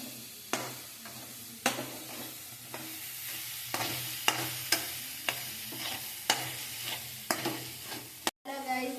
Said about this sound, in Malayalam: ഇനി നമുക്ക് മസാലയുടെ പച്ചമണം മാറുന്നത് വരെ നമ്മൾ ഇളക്കിക്കൊണ്ടിരിക്കണം.